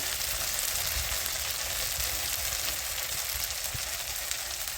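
A bay leaf and a ginger, green chili and garlic paste fry in hot oil with tomato, giving a steady, loud sizzle that holds unbroken throughout.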